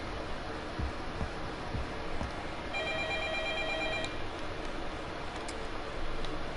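A telephone rings in the Judgment video game, its tone repeating steadily over a constant background hum.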